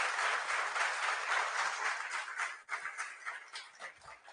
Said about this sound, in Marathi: सर्वांनी पुन्हा एकदा जोरदार टाळ्या वाजवून सरांचं या ठिकाणी अभिनंदन करायचं आहे